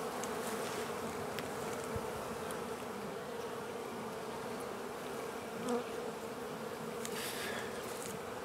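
Honey bees from a winter-absconded swarm hum in a steady, dense buzz throughout, moderately quiet and continuous with no talk.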